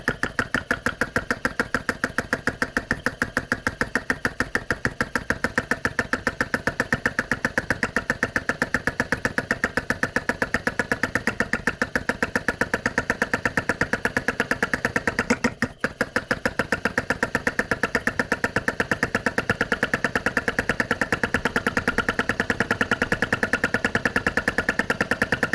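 A repaired flame licker engine runs steadily, its fast even putter holding a constant rhythm close by, with a brief dip partway through before it carries on.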